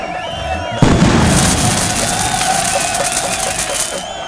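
Festival fireworks go off with a sudden loud blast, then a sustained crackling, booming roar with crowd noise that fills the rest of the scene.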